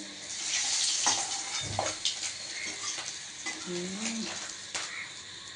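Stuffed pointed gourd (potol) frying in a pan: a continuous close sizzle of hot oil, broken by clinks and scrapes of a utensil stirring the pieces.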